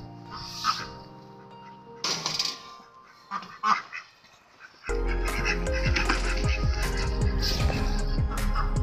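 Ducks and geese honk and quack in short bursts, first sparse and then in a loud, dense, continuous chorus close by.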